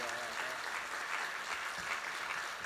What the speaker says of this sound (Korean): 우리 큰 박수로 모시겠습니다.